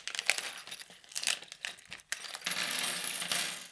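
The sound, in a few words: small screws rattling out of a wheel accessory bag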